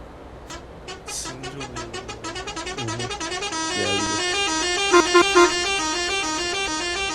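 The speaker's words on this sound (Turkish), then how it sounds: "Kornasının sesi geliyor mu ha?" Marcopolo bus horn in Euro Truck Simulator 2, a loud multi-tone horn blown in a rapid series of honks that merge into a long sustained blast, with brief voices underneath.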